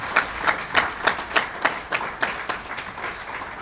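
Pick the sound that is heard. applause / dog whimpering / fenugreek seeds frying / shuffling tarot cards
applause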